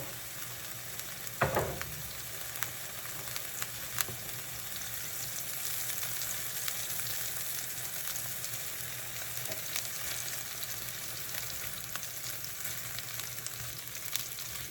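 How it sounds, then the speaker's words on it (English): Beef sizzles and fries in fat in a skillet, a steady close hiss running throughout with a brief louder burst near the start. "I just want to make sure that I have some fat in the skillet as I'm cooking."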